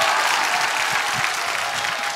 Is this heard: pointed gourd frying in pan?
no